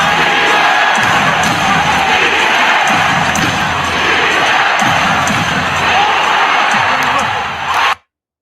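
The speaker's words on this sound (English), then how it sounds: "We love to hear the crowd." Loud basketball arena crowd cheering courtside at a Golden State Warriors game, a sustained roar of shouts and whoops that holds steady for several seconds before cutting off abruptly.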